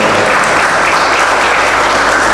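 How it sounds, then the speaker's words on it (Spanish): Audience applause at a Montevideo-style book presentation, a room of people clapping steadily and loudly for a notable guest, dense and continuous throughout without voices. "Un aplauso para él."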